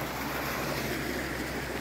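Water drains through the gates of a canal staircase lock, giving a steady broadband rush of flowing water, fairly close and continuous, with no voices over it.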